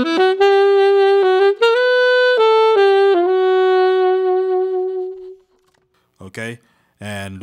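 A section B melody played as a clear solo line of sustained, stepwise notes, ending on a long held tone that fades, followed by brief snatches of a voice after a pause.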